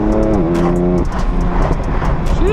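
A tuned BMW M4 on KW V2 coilovers accelerates hard, its engine note rising sharply through quick DCT gearshifts, with audible pitch drops between gears, loud and close from inside the cabin.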